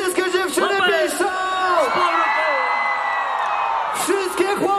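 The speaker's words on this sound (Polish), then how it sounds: "Wszystkie dziewczyny piszą!" Concert crowd of girls at a show during the Dni Skawiny town festival, a loud sustained high-pitched scream filling the middle seconds, with someone shouting through a PA over it at the start and end.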